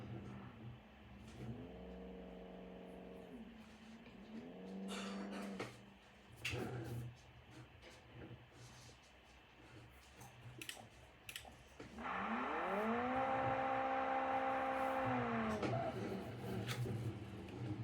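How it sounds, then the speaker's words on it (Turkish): Toyota Supra engine revving in a racing video game, rising and falling whines in bursts near the start, around 5 s and a long loud rev from 12 s, with clicking and keyboard-like taps in between. "araba bağırıyor zaten. Bu Supra arkadaşlar."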